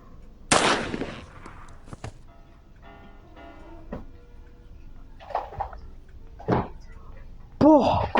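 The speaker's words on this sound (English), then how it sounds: "Let's get the shotgun. Let's get Granny." In the horror game Granny Chapter 2, a shotgun fires at Granny with one sharp, loud blast, followed by sparse thuds, clatters and faint in-game sounds in a mostly quiet space.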